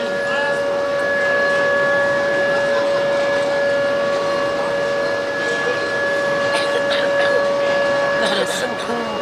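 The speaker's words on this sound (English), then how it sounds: "Watch, it actually has the sirens." A model train's steady two-tone siren blaring continuously over low clattering rumble at a train show, with a voice talking faintly underneath.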